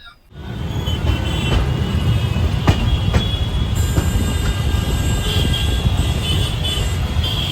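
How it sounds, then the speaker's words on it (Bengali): The 13147 Uttarbanga Express from Sealdah rolling along, a steady loud interior rumble of wheels and carriage with occasional sharp rail clanks, heard alone without voices. "শিয়ালদা থেকে 13147 উত্তরবঙ্গ এক্সপ্রেস ধরে আমরা চলেছি এনজেপির পথে"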